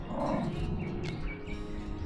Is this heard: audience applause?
no